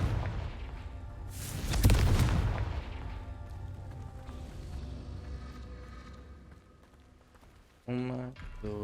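A Confringo fire spell in Hogwarts Legacy bursts with a loud, booming, rumbling blast that fades over a few seconds, followed later by a brief bright magical tone.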